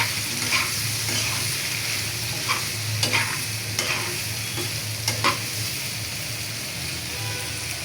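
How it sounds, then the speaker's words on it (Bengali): Vegetables with turmeric and salt are stirred in a pan, with a steady sizzle under a series of spatula scrapes and knocks against the metal every second or so, and no speech. "হলুদের গুঁড়া দিলাম, নাড়াচাড়া হইয়া সব কিছু একসাথে মিক্স করে নিমু হলুদ আর লবণের"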